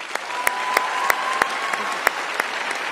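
University commencement crowd applauding the accomplishments of a departing leader's tenure, a dense steady roar of clapping with a few sharp, close individual claps standing out above the wash.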